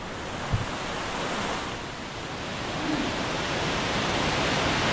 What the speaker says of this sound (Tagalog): Lakas ng tubig sa daan.